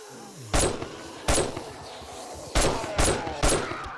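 Sniper rifle fire in the video game 7 Days To Die: five loud, sharp shots spaced irregularly across a few seconds, each with a short echoing tail.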